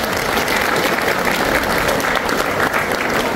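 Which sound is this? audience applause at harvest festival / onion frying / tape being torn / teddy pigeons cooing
audience applause at harvest festival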